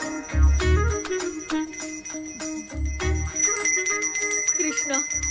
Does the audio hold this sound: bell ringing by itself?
yes